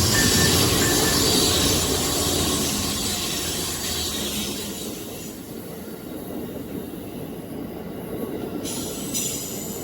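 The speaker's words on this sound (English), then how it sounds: "Here is AmTrak 40, the westbound counterpart to AmTrak 41." Westbound Amtrak 40 passenger train passes on a Maryland line with loud rushing rail noise and squealing wheels, fading gradually as the cars roll by.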